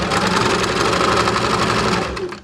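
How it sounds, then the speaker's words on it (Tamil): A sewing machine stitching the neckline of a designer blouse, running in a steady rapid mechanical chatter close up for a couple of seconds before slowing to a stop. "இப்போ இது மேலே நான் ப்ரெஸ் தையல் போடுறேன்."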